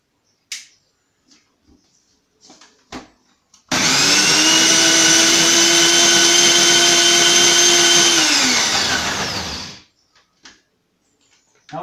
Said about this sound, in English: we'll just blend that up in a type of NutriBlend that I use